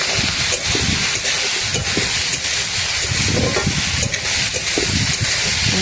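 Salt and turmeric hitting hot oil in a kadai, giving a loud, steady sizzle and hiss that carries on throughout with only faint background stirring.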